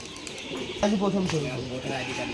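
A Giribaj pigeon coos in a low, wavering burst at a pigeon farm, with murmured voices and background chatter around it.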